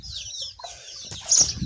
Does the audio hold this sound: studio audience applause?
no